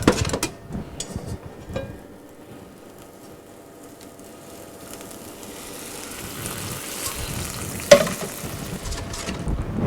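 Lardons and peas fry in a pan with a steady, soft sizzle, broken by a few stirring scrapes and a sharp clink of utensil against the pan near the end.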